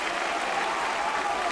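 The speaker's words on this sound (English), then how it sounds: "The crowd getting behind Casey Janssen, the Blue Jays right now." Baseball crowd at a Blue Jays home game cheering and applauding for pitcher Casey Janssen, a dense steady roar of claps and shouts filling the whole moment.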